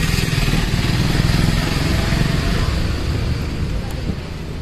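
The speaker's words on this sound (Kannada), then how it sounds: "ಸೊ ನೋಡಿ ಇವಾಗ ಇಕೋ ಮೋಡಲ್ಲಿ ಹೋಗ್ತಾ ಇದೆ ಗಾಡಿ." A TVS iQube S electric scooter riding in eco mode, carrying steady broadband road and wind rush with a faint motor whine, continuous and fairly loud throughout.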